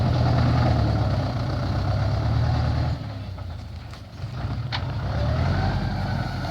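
A tractor engine chugs steadily at close range while plowing, a low continuous drone that dips briefly before returning to full strength.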